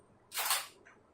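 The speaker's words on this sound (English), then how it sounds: "I'm going to set my shutter speed to 60th of a second and I'm going to take the same shot" One crisp click of a single-lens reflex camera shutter firing at 1/60 second, a brief close mechanical snap followed by a faint second click, with no talk.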